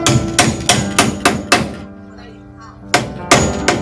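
A hammer pounding something down: loud, sharp, close blows in an even rhythm, a run of strikes, a short pause, then more strikes.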